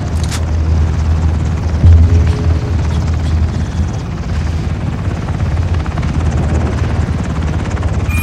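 A helicopter-like aircraft engine and rotor in the game Ring of Elysium idles before takeoff, a loud, steady throbbing drone that holds throughout.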